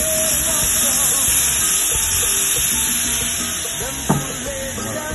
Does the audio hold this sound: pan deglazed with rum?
yes